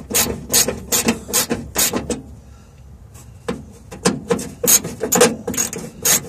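Bolts being loosened from the heater blower motor of a Ford LTD, close-up bursts of rapid ratchet clicking in two separate runs with a quiet pause between.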